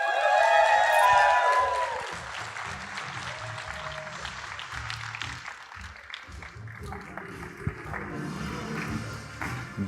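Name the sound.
audience applause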